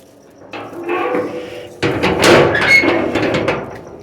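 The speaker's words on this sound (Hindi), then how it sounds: "ये हो गया दरवाज़ा बंद" A door is pushed shut with a couple of heavy knocks and rattles, then a louder clattering thud as it closes, close by.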